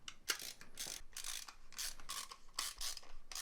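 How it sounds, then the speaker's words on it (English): Screws being tightened on a small USB-C bench power supply case, a series of short scraping, ratcheting bursts close up with no talk. "With our 4 screws tightened"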